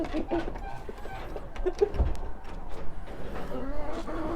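Minorca and Bielefelder hens cluck in an outdoor run, with scattered soft calls at close range over steady background noise.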